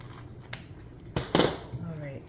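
Scissors snip through a 2.5-inch ribbon tail for a holiday wreath, two or three quick sharp cuts at close range, with low background noise between them.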